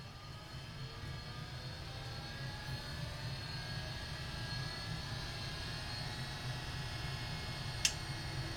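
An original MFM hard drive spins up inside an AT&T Unix PC 3B1, giving a steady, faint whirring drone with a rising whine and one brief sharp click near the end.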